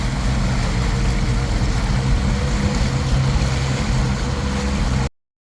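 A Suzuki DF40A outboard motor with a misfire runs steadily and close by on a boat, a continuous engine drone over water and wind noise before cutting off abruptly near the end.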